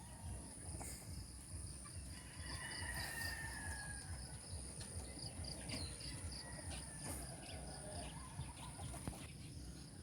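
Chickens cluck and a rooster crows at a distance, with insects chirping steadily in the background of an outdoor yard.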